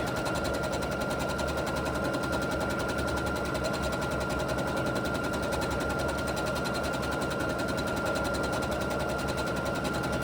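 Sewing machine running continuously during free-motion quilting and thread painting on fabric, a loud, close, steady buzzing hum of rapid stitches that holds its pace for the whole stretch.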